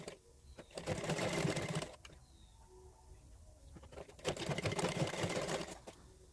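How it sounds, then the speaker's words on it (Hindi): A sewing machine runs top-stitching along a blouse neckline, two steady bursts of fast, even stitching of about a second and a half each separated by a quieter pause, close and clear. "और एक सिलाई हम ऊपर से लगाएंगे, कुछ इस तरीके से देख सकते हैं आप।"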